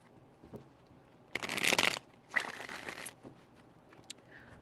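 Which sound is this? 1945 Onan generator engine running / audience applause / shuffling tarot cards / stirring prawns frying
shuffling tarot cards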